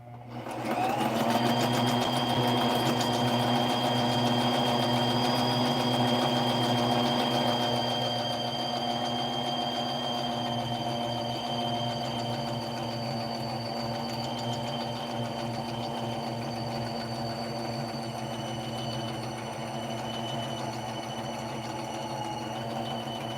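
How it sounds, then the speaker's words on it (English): A sewing machine stitches a straight seam down the front of a doll body, running steadily and close with a constant whirring hum for the whole stretch, slightly softer after the first few seconds. "Now I'm going to sew the front straight down the front."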